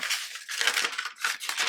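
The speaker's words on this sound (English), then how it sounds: "I'm just putting my ruler on the line, and then I'm just going to cut it" Quilt fabric is cut along a ruler in a run of close, crisp crunching strokes, several in quick succession, with no voices over them.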